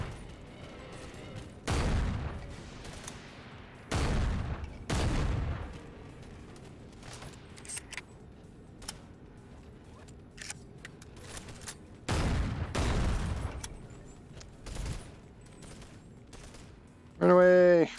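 Gunfire in the Bonelab VR game comes in several separate loud bursts of shots spaced a few seconds apart, with quieter gaps and scattered faint clicks between them.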